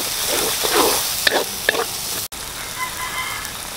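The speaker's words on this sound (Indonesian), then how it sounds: "Kita goreng serbuk kari ini sampai pecah minyak." Curry powder frying in oil in a Borneo village kitchen for a fish curry, a steady close sizzle with brief stirring clatters and a sharp knock partway through.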